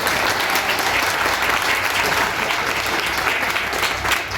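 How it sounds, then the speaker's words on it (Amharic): A crowd at a political rally in Gondar, Ethiopia breaks into dense, continuous applause, loud and steady throughout with no pauses. "ጭብጨባ"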